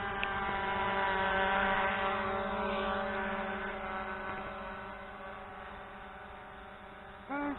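An SJRC F11 Pro foldable GPS RC drone circles tightly overhead, its propellers giving a steady high buzzing whine with layered harmonic tones that slowly fades a little as it moves, and a brief louder blip near the end.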